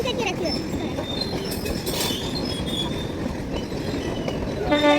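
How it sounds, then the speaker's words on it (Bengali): A freight train rolls past a railway crossing in Rampurhat, a continuous loud rumble of wheels and wagons with metallic squeals throughout the clip. "কত বড় ট্রেন গেল"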